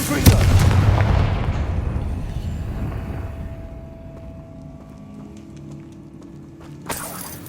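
A Confringo fire spell explodes in Hogwarts Legacy with a loud booming blast at the start, decaying into rumbling crackle, then a quieter tonal hum and a brief bright burst near the end.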